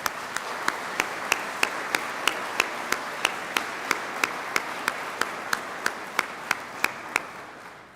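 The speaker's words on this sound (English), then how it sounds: "would you please join me in a round of applause thanking them for their work" Audience applause at a detention officer basic training ceremony: a steady crowd patter runs throughout, punctuated by loud, evenly spaced single claps about every third of a second, gradually fading toward the end.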